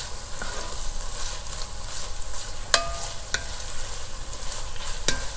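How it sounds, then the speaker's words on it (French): Pork belly lardons fry in a pan with a steady, close, crackling sizzle, broken by a few sharp clicks from a utensil against the pan. "On va venir ajouter la poitrine qu'on a découpée en lardons. On va commencer à les faire cuire, les faire revenir."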